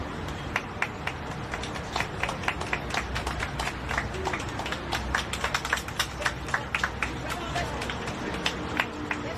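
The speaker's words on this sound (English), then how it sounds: "Put your hands together as we celebrate life" An outdoor crowd claps for a family at a street dedication in honor of Vernest C. Moore, with dense, uneven hand claps running steadily throughout and faint voices underneath.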